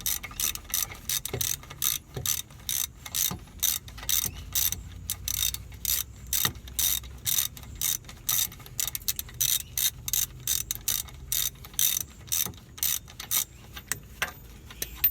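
Rapid clicking of a ratchet on the wheel hub bolts of a 2008 Dodge Nitro, front driver-side hub, in quick repeated bursts with brief pauses, close and steady, no talking.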